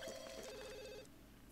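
Telephone ringing in The Sims, a faint electronic ring with repeated tonal pulses that cuts off about a second in, leaving quiet room tone.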